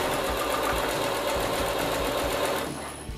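A sewing machine stitches a fabric oven mitt, running steadily and loud up close with a fast mechanical rhythm that slows and eases off near the end.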